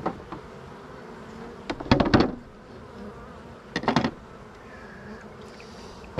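Honeybees hum around two beehives outdoors in a low, steady drone, while a few sharper knocks and rattles of hive equipment break in twice.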